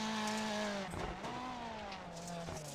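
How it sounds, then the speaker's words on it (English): A Ford Fiesta rally car in iRacing rallycross slides sideways into a corner, its engine note holding steady and then dipping and rising again, with brief tire scrub in the middle, moderately loud and heard without talk. "As we see Will Salisbury chuck his Fiesta sideways into one right now."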